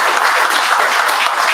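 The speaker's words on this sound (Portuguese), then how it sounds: "Vamos aplaudir a professora." A lecture audience at a public talk applauds the female lecturer; dense, loud, even clapping from many people fills the short stretch without speech.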